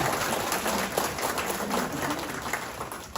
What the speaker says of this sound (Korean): 박수 한번 주시겠습니다.